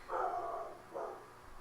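Dogs barking indoors in a room, two muffled bark bursts close together, moderately faint, with no talk over them.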